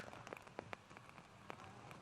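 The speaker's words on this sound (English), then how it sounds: "you can hear the rain coming down once again" Rain falls steadily at an outdoor soccer match, a faint, even patter with scattered sharper drop ticks.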